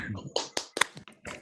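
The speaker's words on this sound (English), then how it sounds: "please clap for this amazing, super inspiring talk" Scattered clapping from a few unmuted participants in an online meeting, a handful of separate claps and taps with uneven timing, thin and close to their microphones.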